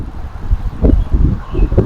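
Gusty wind during a recumbent bike trail ride buffets the microphone with low rumbling thumps and a rough, whooshing noise throughout.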